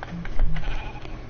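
Sheep bleating in a video game, a few short bleats close by over a low game background hum, with no talking.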